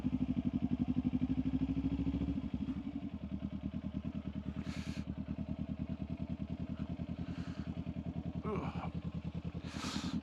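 A Kawasaki Ninja 400 motorcycle idles and putters at low speed while turning around in a gravel pit, its engine a steady, throbbing pulse with a brief throttle change early on and faint crunches and wind over it.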